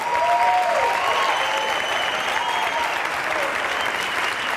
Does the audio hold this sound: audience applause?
yes